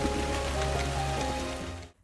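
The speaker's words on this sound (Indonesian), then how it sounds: "Tak lama kemudian hujan pun turun." Steady rain pours over jungle, a dense continuous hiss of drops on foliage and surfaces that holds close and loud before cutting off abruptly near the end.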